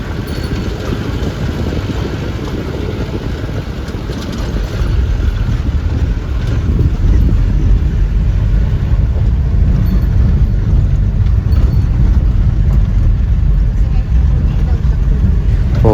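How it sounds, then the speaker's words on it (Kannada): Off-road jeep driving through forest near Hebbe Falls in Chikmagalur, a loud continuous engine rumble with heavy wind buffeting the microphone, growing stronger midway and holding steady to the end. "ಆಫ್ರೋಡಿಂಗ್ ಜೀಪಲ್ಲಿ ಎಕ್ಸ್ಪ್ಲೋರ್ ಮಾಡ್ತಾ"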